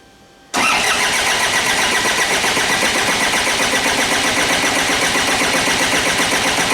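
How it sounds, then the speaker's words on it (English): A Ford Ranger / Mazda BT-50 engine with a cranks-but-won't-start fault cranks loudly and continuously after a moment of quiet, making a steady fast rhythmic churning from the starter that never catches. "Just crank the engine, see what it's doing."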